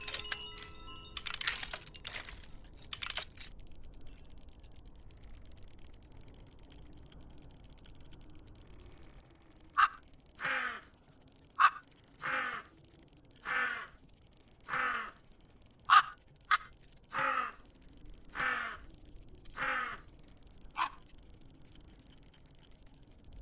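A series of about a dozen crow-like caws from a bird in the video game Tick Tock: A Tale for Two, spaced at fairly regular intervals over a quiet background, following a brief burst of mechanical clicking at the start.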